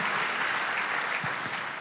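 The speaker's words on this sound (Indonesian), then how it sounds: "Beri tepuk tangan sekali lagi buat Tuhan kita Yesus Kristus" A church congregation claps together in sustained, dense applause, loud and close, filling the short moment without any talking.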